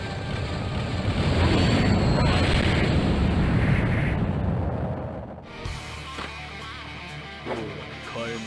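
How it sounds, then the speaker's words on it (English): A big fiery explosion instant kill in the fighting game Guilty Gear Accent Core: a loud, sustained roaring blast for about five seconds that abruptly cuts to quieter game sounds with a few sharp hits. "It's a big fiery explosion."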